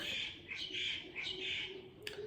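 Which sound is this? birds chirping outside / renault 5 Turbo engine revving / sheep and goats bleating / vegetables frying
birds chirping outside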